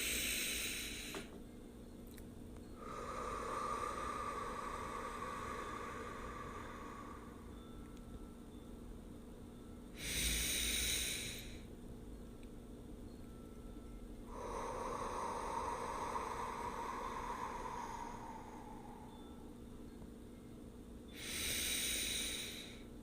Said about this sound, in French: Recentre-toi et prends 3 profondes respirations.